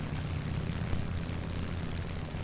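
The engine of an I-16 Type 24 propeller fighter drones steadily in a War Thunder realistic air battle, a low, continuous rumbling buzz throughout.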